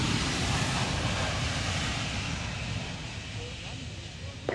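A Boeing 757 airliner lands and brakes on the runway at the Kemble airshow, a loud broad roar of engines and rushing air that eases slightly toward the end.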